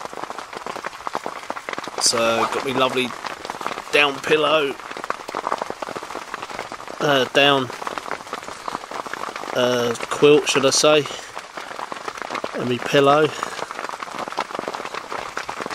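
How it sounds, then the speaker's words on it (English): Soft, constant patter of rain on a rooftop tent close by, while a person talks quietly over it in short phrases. "nod off to the sound of raindrops."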